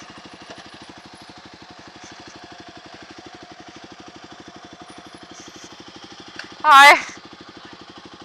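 Scooter engines idle nearby with a steady, low pulsing putter throughout, joined by a brief loud burst near the end, while a voice speaks briefly.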